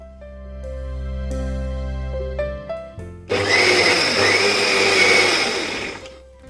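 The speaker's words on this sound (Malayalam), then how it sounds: "ഇതിലേക്ക് 1/2 കപ്പ് വെള്ളം കൂടി ഒഴിച്ചിട്ട് അടിച്ചെടുക്കുകയാണ് ചെയ്യുന്നത്" A steady electric motor hum gives way to a loud, rough grinding roar as a blender churns thick appam batter with added water, then winds down.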